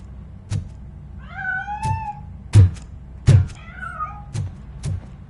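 A cat in RoboCop: Rogue City gives two separate drawn-out meows, the first longer and wavering, the second shorter, over a quiet room tone with several soft thumps scattered through.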